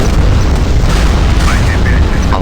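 Loud, dense missile explosion in the naval combat game Modern Warships, a sustained deep boom filling the whole stretch with crackling bursts, with game audio and faint voices mixed in.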